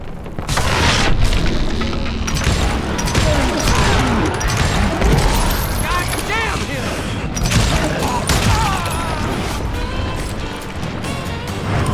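Dynamite blasts in the Western video game Call of Juarez: Gunslinger, loud booming crashes and rumbling debris that keep rolling across the scene, mixed with gunfire and under intermittent speech.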